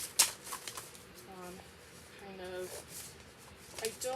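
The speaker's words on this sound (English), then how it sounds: "Okay, so I'm cutting out the peacock here." Scissors cut out a peacock furniture transfer design from a sheet, a brief crisp snip near the start followed by soft, quiet paper rustling and clipping, with someone talking over it.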